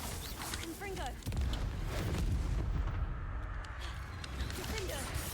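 Spell explosions from Bombarda and Confringo in Hogwarts Legacy: a sudden heavy blast, then a dense run of booming impacts and crackling debris, with game music and effects underneath throughout.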